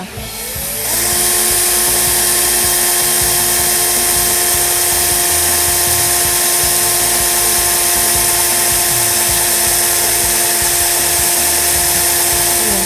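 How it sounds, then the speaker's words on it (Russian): A power drill spins up and bores continuously at a loud, steady high-pitched whine, grinding into a thick-walled PVC window profile for a long stretch without pause. "Я просверлю два профиля"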